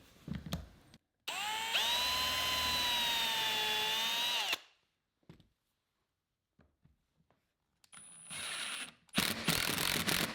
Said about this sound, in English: I'm using a self-centering Vicks bit to pre-drill holes for the 3/4 inch by 8 screws